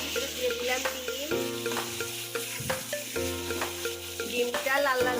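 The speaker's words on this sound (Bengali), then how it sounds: "ডিমগুলা সুন্দর করে লাল লাল করে ভাজি করে নেবেন।" Eggs frying in oil with turmeric, a steady sizzle with stirring and scraping in the pan, close up, with music playing over it throughout.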